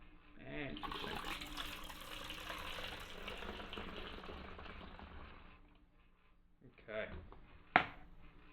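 Milk poured into a sink makes a steady splashing stream for several seconds, tapering off, followed by a couple of brief louder knocks and splashes; voices are faintly present.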